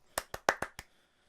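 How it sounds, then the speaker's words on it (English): Five sharp hand claps ring out in an uneven burst, close and crisp, then quiet. "I gotta clap"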